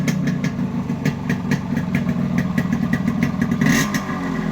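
A Yamaha RX King motorcycle engine, fitted with an Indonesian CDI unit, idles and revs close by, a steady throbbing rumble with brief rises in pitch.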